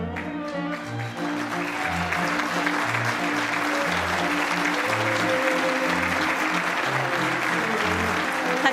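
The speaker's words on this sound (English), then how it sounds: "big round of applause." Sustained, dense applause from a large audience filling a formal ceremony hall as Japan Prize laureates enter, steady and loud throughout, with a low musical accompaniment pulsing underneath.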